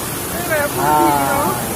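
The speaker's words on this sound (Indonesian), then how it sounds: "Di bawah lagi ada juga banyak air terjunnya." A waterfall at an ecotourism site in Bireuen, Aceh produces a constant hissing rush of falling water, steady and moderately loud, while people talk over it.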